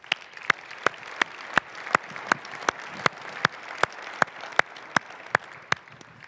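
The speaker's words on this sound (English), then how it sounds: "That deserves applause." Steady crowd applause fills a mayor's State of the City address in Riverside, with a dense wash of clapping punctuated by sharp, regularly spaced louder claps close by.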